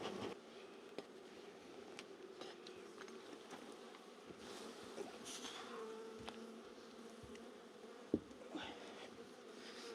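Honeybees buzz steadily at an opened beehive that had gone unopened for ten years, a continuous close drone with a few sharper knocks and clicks from handling the frames.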